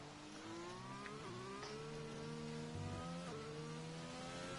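An F1 2020 race car engine in the Bahrain race screams as it accelerates, pitch climbing through the gears with sharp drops at each upshift, loud and continuous with no talk.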